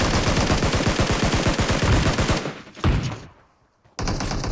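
Loud, fast bursts of gunfire in the shooter game PUBG Mobile, a rapid string of shots that stops, then a brief gap of near-silence before the firing resumes.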